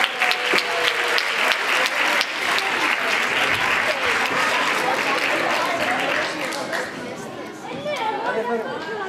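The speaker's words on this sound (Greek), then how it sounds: "Χειροκρότημα στους εθελοντές." Sustained, dense applause from an audience for volunteers at a Greek cultural association's music event, steady and fairly loud across the whole span with crowd chatter mixed in and fading slightly near the end.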